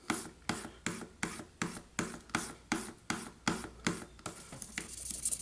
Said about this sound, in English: We're just doing the final sharpening on the edge here.